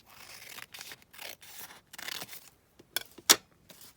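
Scissors snip through paper while trimming a handmade envelope with pockets, a series of short close cuts and rustles with brief pauses, ending in a couple of sharper snips.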